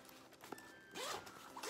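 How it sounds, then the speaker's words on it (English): The double zip on a compression packing cube is being undone at close range. There is a short rasp, a brief pause, then a longer, louder zipping pull, all in a quiet room. "Like if you unzip this,"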